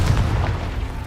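A Confringo fire spell bursts in the Hogwarts Legacy game, a dense low boom with a rumbling blast that holds loud across the moment, no voices over it.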